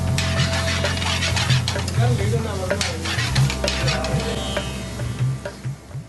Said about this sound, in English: He mixes all the ingredients together.